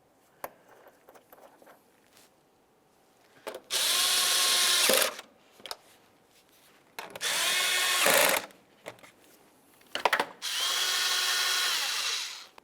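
Bursts of a power tool tighten mounting nuts on a car's inner fender liner, from a 2003-2011 Mercury Grand Marquis. Three loud whirring runs of a few seconds each come between quiet clicks and handling noises.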